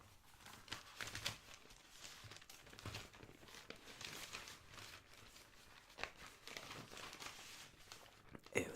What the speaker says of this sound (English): rearrange my paper again.